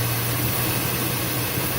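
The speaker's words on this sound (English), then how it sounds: "it will keep the engine running" A car engine idles steadily while Seafoam fuel additive is poured into the intake, a constant low hum under a broad hiss, with no talking.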